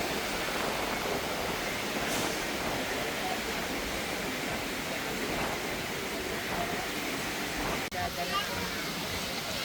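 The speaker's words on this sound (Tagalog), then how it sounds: "Lakas ng alon guys" Strong ocean waves at high tide on a Boracay beach, a steady, dense roar of surf rolling on throughout, fairly loud and close, with no clear talk over it.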